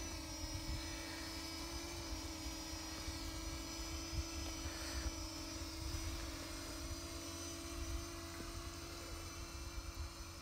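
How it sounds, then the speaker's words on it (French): A Parrot Anafi drone flies backwards on its own in Epic mode, its rotors giving a steady, even buzzing whine with no break. "Le drone il va reculer tout seul."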